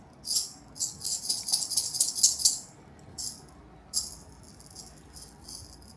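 A baby shakes a rattle toy in a sustained burst of bright, close rattling for about two and a half seconds, followed by a few shorter, spaced shakes. No one speaks.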